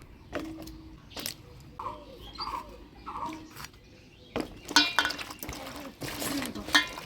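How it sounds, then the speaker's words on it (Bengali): Cut pointed gourds are washed in water, making irregular splashes, sloshes and light knocks at close range, with a few brief vocal sounds in between. "পটলগুলো কাটে নিলাম এবার পরিষ্কার করে ধুয়ে নিলাম"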